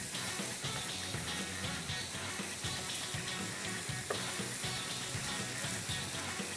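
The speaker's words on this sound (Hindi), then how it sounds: "जो मीट मिन्स है, इसको हम करेंगे सॉटे।" Minced meat sautéing in a pan with a little water added, a steady crackling sizzle with soft stirring scrapes throughout, fairly quiet and without talk.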